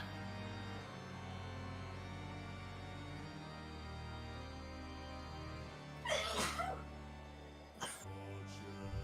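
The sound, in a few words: sneezing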